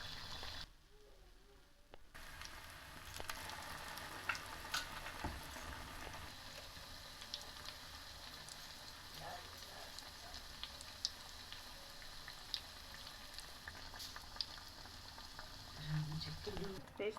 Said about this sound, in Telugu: ఇవటండి ఫ్రై అవుతున్నాయి.